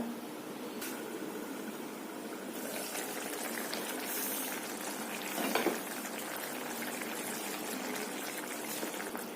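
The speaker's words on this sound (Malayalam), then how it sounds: "ഒരു മീഡിയം ഫ്ലെയിമിൽ ഈ ഉള്ളി കുറച്ചൊന്ന് വേവണം" Onion and coconut pieces cooking covered on a medium flame give a soft, steady bubbling sizzle with faint trickling, quiet and continuous, with a brief clink partway through and no talking.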